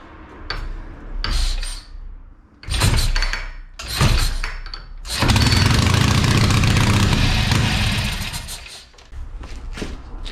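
International Scout 648 stroker V8 cranking in short loud bursts, then catching and running steadily at a rough, rich idle before dropping back, close up in a shop with no talk.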